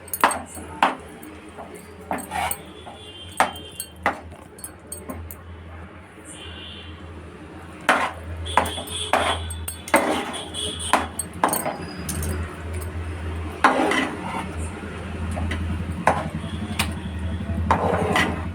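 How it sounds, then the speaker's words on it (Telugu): Ragi mudde is being stirred together with cooked rice in a pot on low heat, giving scattered knocks and scrapes of the utensil against the pot over a steady low hum, with faint voices at moments. "అన్నం కూడా సిమ్లో స్మాష్ అయ్యేటట్టు ఇలా కలుపుతూనే ఉండాలి"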